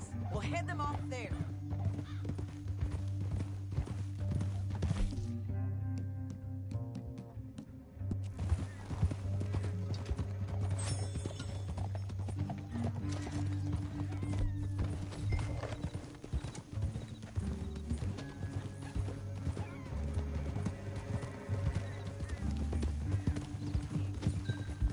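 Horse hooves clip-clop at a steady trot in the Red Dead Redemption 2 video game, running throughout beneath a continuous music score and occasional speech, with a brief whinny-like break midway.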